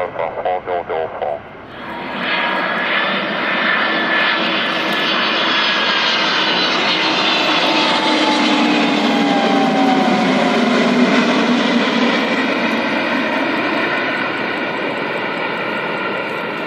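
An Airbus Beluga cargo aircraft lands on runway 15 in Brazil, its loud, close engine roar swelling and holding steady with a slowly sliding whine, preceded by brief radio chatter.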